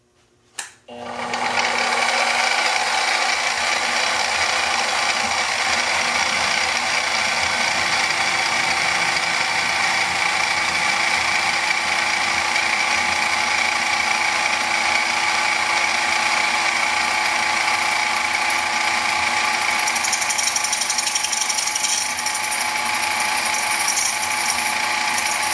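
Holes being drilled in a hand-forged knife blank for a custom EDC: a brief clack, then a continuous, steady mechanical whine and grinding drone that runs unbroken for over twenty seconds at close range.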